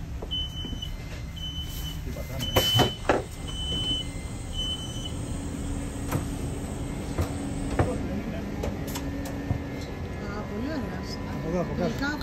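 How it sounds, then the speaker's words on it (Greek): A ride on the upper deck of a double-decker train heading toward Rome, with a steady low rumble and a hum of the running train, brief knocks and rattles, and people talking over it. "Έχουμε μπει σε ένα τρένο. Διόροφο."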